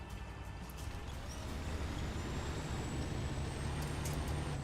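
Kenworth truck in Snowrunner labouring up a hill, a low steady engine drone with faint airy hiss on top, fairly quiet and unbroken throughout.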